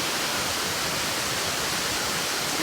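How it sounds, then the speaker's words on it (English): Steady roar of a waterfall on the Thiba River in Kirinyaga, heard from right on top of the falls as a dense, loud, unbroken rush of water. "So right now I'm actually walking on top of the waterfall"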